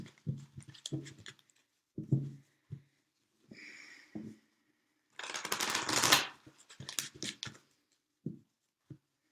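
Tarot cards are shuffled and handled in short bursts of papery riffling and tapping, close and quiet, with brief pauses and soft sniffs between.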